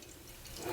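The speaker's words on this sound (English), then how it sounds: "I'm going to pour it a little harder." Edmund Fitzgerald Porter beer poured hard into a glass, a steady close liquid splash and fizz that swells louder toward the end.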